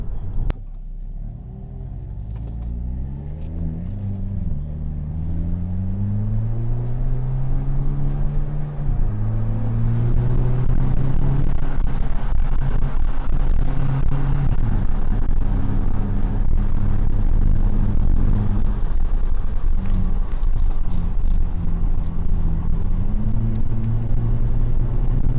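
A 2022 Hyundai Kona N SUV on a raceway lap, engine droning up through repeated gear shifts, each rise in pitch breaking off and climbing again, loud and close inside the cabin, with no talk.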